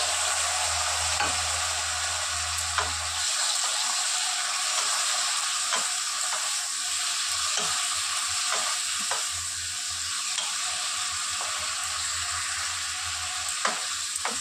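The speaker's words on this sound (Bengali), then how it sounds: "কড়াইতে তেল দিয়ে দিয়েছি। এবারে আমি চিংড়ি মাছগুলো দিয়ে দেব।" Prawns sizzle in hot oil in a wok, a steady close frying hiss with scattered sharp crackles and pops throughout, no voices.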